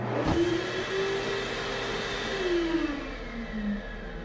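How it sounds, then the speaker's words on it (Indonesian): An electric hand dryer in a public toilet whirs steadily with a faint motor whine, a short knock at the start, then a continuous moderately quiet drone throughout. "terdengar suara pengering tangan yang sedang ngahyeng"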